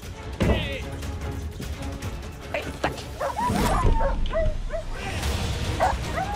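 A police dog barks, yips and whimpers during bite-training work, with sharp repeated calls at close range over steady background noise while people talk nearby.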